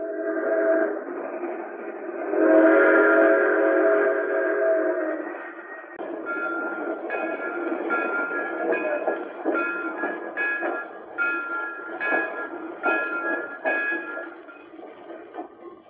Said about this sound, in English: Look at her streak along the rails.